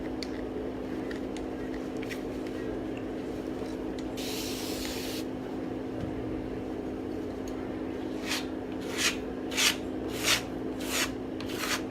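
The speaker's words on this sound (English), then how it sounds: "I'm gonna mist it a little." Water misted from a spray bottle onto a painting canvas: a single longer hiss early on, then about five short, evenly spaced spritzes near the end, quiet against a steady background hum.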